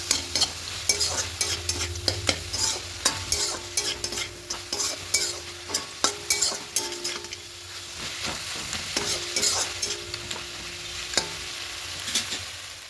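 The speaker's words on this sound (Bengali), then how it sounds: "এবার খুব ভালো করে সব কিছু মিশিয়ে নেব।" Fenugreek greens fried with poppy seeds and peanuts are stirred in a hot pan: repeated scraping and tossing strokes over a light, continuous sizzle, close up and with no talking.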